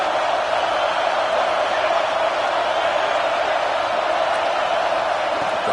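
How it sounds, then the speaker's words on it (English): A large stadium crowd roaring at a South Carolina football game on third down, a loud, dense, unbroken wash of cheering with no individual voices standing out. "3rd down, and the crowd really getting into it."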